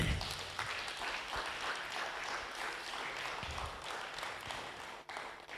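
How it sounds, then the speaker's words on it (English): Audience applause at the close of a public lecture on hypertension management. Sustained, dense clapping from a seated crowd sounds moderately distant and steady, then fades briefly near the end. "Another round of applause."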